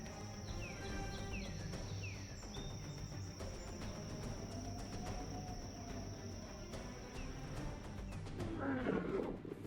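A lion roars on the African savanna, a low rumbling call that swells near the end over steady wild ambience with insects chirping throughout.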